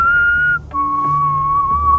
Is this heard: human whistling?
yes